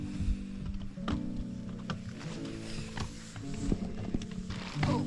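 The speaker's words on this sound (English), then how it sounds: "we've got horses in the valley" Horses move through a valley in Corsica's mountains with irregular hoof clops and shuffling close by, mixed with low snorts and rustling, and no clear speech.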